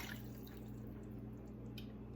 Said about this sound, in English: I'm just going to pour that over the bird